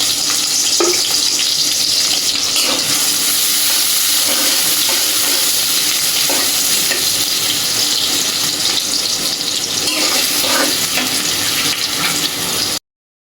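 Chopped onion fries in oil in a kadai, giving a steady sizzling hiss with small crackles and pops over a faint background. No one speaks.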